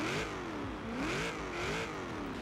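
Supercharged V8 engine of a Ford De Luxe coupe hot rod in Forza Horizon 3, revving up and down in repeated rising and falling sweeps, steady and fairly close with no talk.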